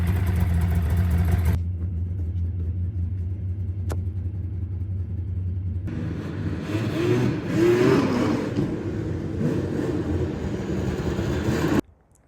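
A snowmobile engine revs while riding: a loud rumbling drone, a brief quieter stretch, then a strong revving surge as the sled rips past nearby, cutting off abruptly at the end.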